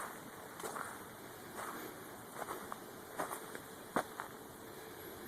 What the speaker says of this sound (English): listen to how quiet his footsteps are